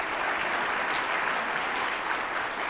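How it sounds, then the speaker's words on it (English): A crowd claps at a political convention, a steady, dense wash of applause that holds evenly at a loud level throughout, with no voices rising above it. "clap for that"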